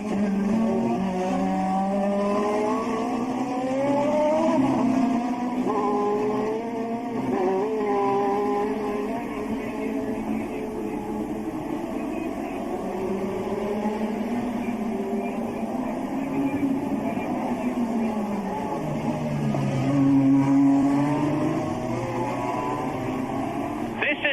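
Formula 1 cars race in the rain at the 1984 Monaco Grand Prix, with a distant, droning engine note rising and falling in pitch beneath continuous commentary.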